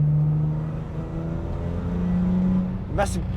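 A supercharged BMW E46 M3 with an S54 engine, steady throttle roll-on around 3000 RPM, its droning tone rising gently with a brief sharp burst near the end, heard close under someone talking.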